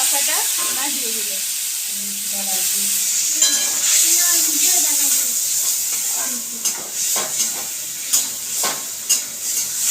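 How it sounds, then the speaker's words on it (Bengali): Grated cucumber stirred and fried in a pan for a cucumber curry cooked without onion or garlic, a steady close sizzle and hiss with scraping stir strokes that grow more distinct toward the end, a voice talking briefly early on. "মা ভালো করে এটাকে নেড়ে নিচ্ছে"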